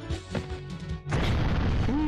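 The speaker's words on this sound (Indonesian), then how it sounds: "Tuh meledak." Explosion effect after a Kamen Rider shadow kick: a loud, booming blast that bursts in after a short lead-in of other game sounds and roars on to the end, with a voice briefly heard over it.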